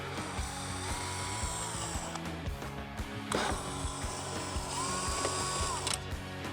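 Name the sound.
ratchet removing headlight screws on a Harley-Davidson Street Glide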